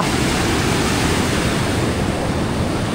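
Water of the Seti Gandaki river at Rock Garden in Tanahu rushes loudly and without pause as a dense, close, steady roar that fills everything, with no voices.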